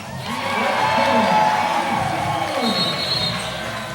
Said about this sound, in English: And the crowd gets moving.